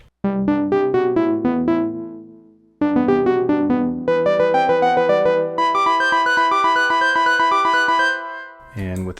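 Clean synth tone from an Elektron Digitone playing a loud, steady run of bright harmonic notes in repeated phrases, with a short pause and a rising, denser passage near the end, heard alone without talk.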